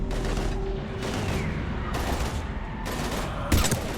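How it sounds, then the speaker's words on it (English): Heavy gunfire from the Mass Effect 3 video game rattles in dense, continuous bursts beneath a sustained combat din, with a louder impact near the end. "We're taking heavy fire."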